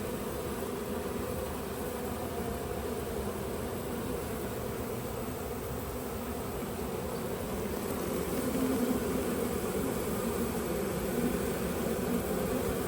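Honeybees drone in a dense, continuous buzz as they crowd into the hive after the queen, a steady close swarm sound that holds at the same level throughout.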